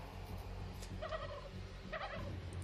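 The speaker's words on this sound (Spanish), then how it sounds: "mira un montón de pavos aquí esperándome" Several turkeys gobble in How to Survive 2, two bursts of fluttery gobbling about a second apart over a steady low game background hum, at moderate loudness.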